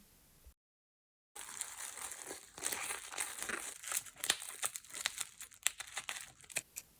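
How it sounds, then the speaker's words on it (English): Art supply packaging being unwrapped, with crisp plastic crinkling and rustling close up. Irregular crackles and sharp snaps follow a brief silent gap at the start. "And now some unpacking ASMR coming up."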